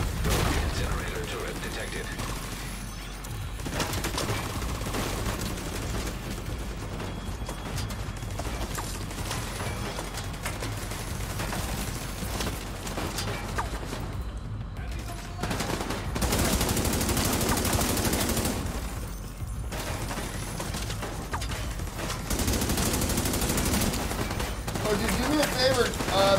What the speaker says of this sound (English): please shoot the railing as much as possible in front of you